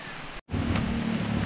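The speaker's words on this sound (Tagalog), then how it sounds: "Kahit umuulan." Steady rain falls heavily on surfaces, broken by a brief silent gap before the dense hiss resumes, loud and close with no talk.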